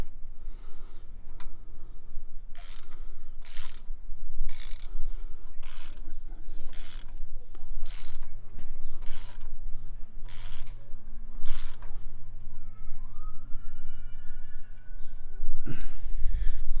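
Wheel studs being screwed in by hand with Loctite on a Vauxhall Corsa VXR during a stud conversion: a steady run of about nine sharp ratcheting clicks at an even rhythm, close and fairly loud, with no talking.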